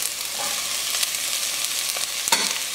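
Onions sizzle steadily in a 4-quart cast iron Dutch oven, a continuous hiss with a few stirring scrapes and clicks, fairly close and even throughout.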